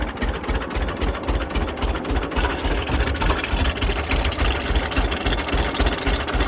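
A John Deere A tractor engine idles steadily nearby with a rhythmic low chugging and vibration, running alone without talk while it pumps transmission fluid.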